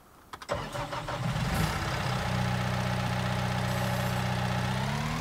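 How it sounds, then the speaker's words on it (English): A snow blower engine in Farming Simulator 2019 cranks over with a few quick clicks, catches, and settles into a loud, steady, droning idle that holds evenly to the end. "Now we have this snow blower."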